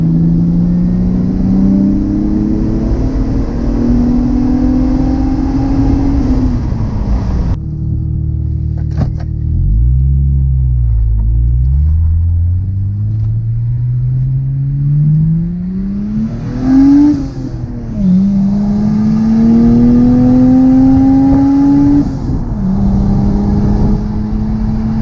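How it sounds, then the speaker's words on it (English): A turbocharged family sedan running about 0.5 bar of boost accelerates repeatedly, with loud, close exhaust drone and engine-bay whir rising in pitch through the pulls and a deep lull between runs. "Mounted my little microphone on the back of the car as well as inside the engine bay to get the exhaust and the turbo noises"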